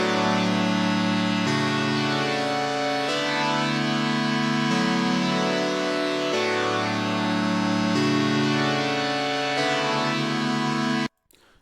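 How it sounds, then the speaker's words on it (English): Sustained lush keyboard chords from the Beautiful Keys preset in Analog Lab V, plain chord changes roughly every one and a half seconds, loud and steady, ringing alone with no talk before a sudden cutoff. "I used a sound out of keys called Beautiful Keys."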